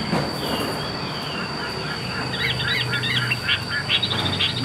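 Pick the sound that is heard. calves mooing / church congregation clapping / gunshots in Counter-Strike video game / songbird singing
songbird singing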